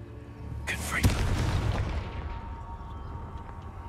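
The Confringo blasting spell from Hogwarts Legacy fires with a quick whoosh and then a heavy explosion that booms and rumbles away over a few seconds amid game ambience.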